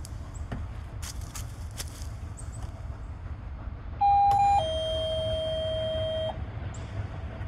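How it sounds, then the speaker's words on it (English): A toy playhouse's electronic doorbell chime rings out in two bright tones, the second held for about two seconds, over a low steady background rumble. "Ring the doorbell."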